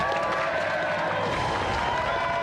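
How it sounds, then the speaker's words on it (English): Studio audience on a video game show applauds a winner with a thick, continuous wash of clapping and some cheering, loud and close, backed by a bright musical tone. "round of applause for our golden joystick winner, Alistair"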